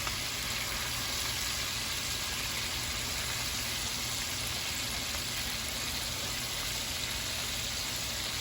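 Shrimp frying in hot grease gives a steady, dense sizzle that runs unbroken and fairly quiet throughout, with no talking over it.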